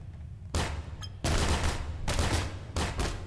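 Gunshots in the sandbox video game People Playground, loud and close, arriving as dense rattling bursts of rapid fire separated by short pauses.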